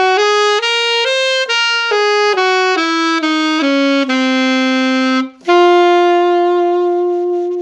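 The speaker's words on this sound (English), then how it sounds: "If I'm playing an A altered dominant scale, I want to resolve that." An A altered dominant scale runs as a quick series of about ten separate ascending notes, then breaks briefly and resolves to a sustained D. One clear melodic instrument plays alone, close and loud.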